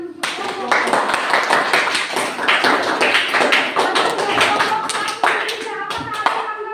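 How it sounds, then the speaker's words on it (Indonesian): A classroom of students clapping for a group that has just presented, brisk and fairly close, with a few voices talking through the applause. "mari kita tepuk tangan untuk kelompok"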